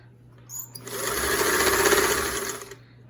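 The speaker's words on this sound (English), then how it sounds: "let's go ahead and move the needle position all the way to the left" A Singer 328K sewing machine running briefly alone as its needle swings to the left, a steady mechanical whir rising and fading over about two seconds after a small click.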